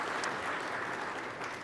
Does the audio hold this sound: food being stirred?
no